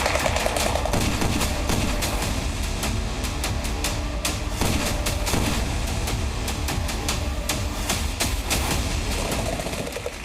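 Dense, continuous gunfire from a militant training exercise, rapid overlapping shots forming a loud, sustained fusillade with sharp cracks throughout and no speech.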